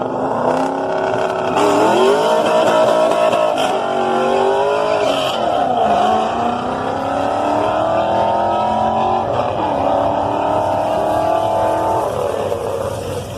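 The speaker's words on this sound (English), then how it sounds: "Doing a burnout?" A car doing a burnout at Pageland Dragstrip, a loud engine revving hard and rising in pitch in several surges, with tire noise and nearby crowd sound throughout.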